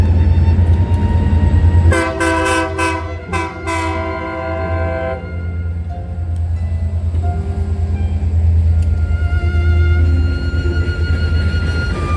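An eastbound freight train passing in Wichita gives a loud rumbling roar, with a blaring horn blast early on, then the continuous heavy rolling of the cars.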